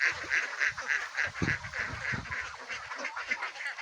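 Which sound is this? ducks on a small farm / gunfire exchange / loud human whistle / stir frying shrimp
ducks on a small farm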